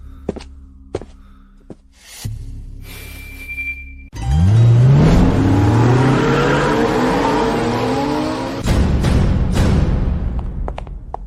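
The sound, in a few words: car driving off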